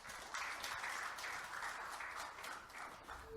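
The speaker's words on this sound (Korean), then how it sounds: "따뜻한 환영의 박수 부탁드리겠습니다" An audience at a formal awards ceremony claps in welcome for the host institute's director, a continuous wash of many hands at steady, fairly full volume that swells in soft waves and runs throughout.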